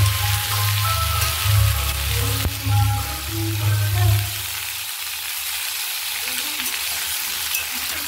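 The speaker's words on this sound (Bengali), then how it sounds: "এবারে সবজিগুলো ভেজে নেব। এখানে আছে গাজর, ডিম কড়াই আর শিম একসঙ্গে ভেজে নেব।" Carrots, peas and beans fry together in a pan for khichuri, a close hissing sizzle with stirring scrapes and a low hum during the first half, then a softer, steady sizzle alone.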